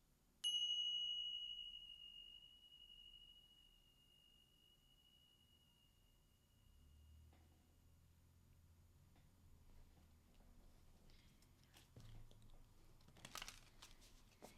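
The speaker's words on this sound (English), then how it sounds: "I'm going to go ahead and ring my chimes" Wind chimes struck once to open a spiritual reading, a bright metallic ring that sustains and slowly decays, followed by quiet room sounds and faint rustling.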